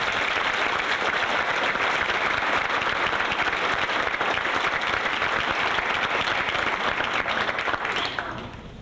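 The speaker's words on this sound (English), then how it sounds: "How about another round of applause?" An audience at a school speech contest applauds, a loud, dense, sustained wash of clapping that carries on steadily before fading away at the very end.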